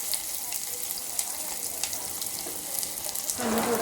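Onion frying in a hot tempering of oil with mustard seeds and cumin, a soft continuous sizzle close by that swells louder toward the end, with faint clinks of stirring.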